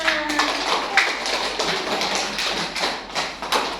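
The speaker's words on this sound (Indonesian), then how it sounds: "Oke, tepuk tangan kita semua." Schoolchildren in a classroom clap together after a multiplication game, a run of close, uneven hand claps with sharper peaks that continues throughout.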